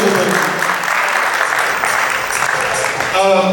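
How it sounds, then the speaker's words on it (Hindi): Loud, dense applause from an awards-show audience at the M&T Acme Awards 2021, a steady roar of many hands that holds throughout and swells again at the end. "एक बार जोरदार तालियां बजाएं"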